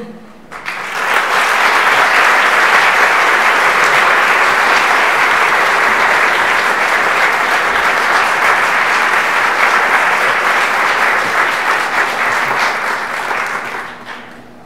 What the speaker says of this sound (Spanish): recibimos a nuestros artistas con un aplauso